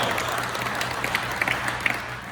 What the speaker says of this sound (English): If I can hear a round of applause for everything that they do.